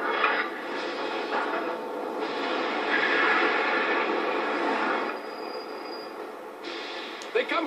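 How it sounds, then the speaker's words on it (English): A train in the video game Far Cry 3 rolls along steadily, a broad rumbling wash of rail noise holding at moderate loudness throughout, with a brief sharp knock near the end. "Train's going, but it's gonna take its sweet time."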